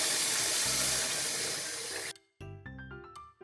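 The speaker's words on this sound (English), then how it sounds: "Let's give it one last rinse and get cooking." Tap water runs steadily over beef short ribs being rinsed for Korean braised galbi-jjim, a broad close hiss of flow that cuts off abruptly about two thirds through, followed by brief clattering kitchen handling sounds.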